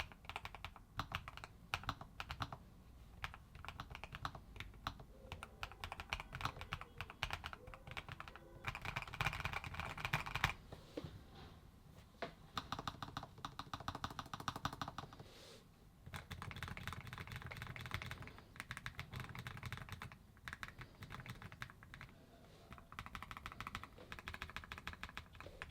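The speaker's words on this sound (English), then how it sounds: "why don't we go into a sound test and see if you can pick up on it" Rapid, crisp keystrokes clatter on a Lofree Flow 2 low-profile mechanical keyboard in steady bursts with short pauses, close up and fairly quiet, no voices.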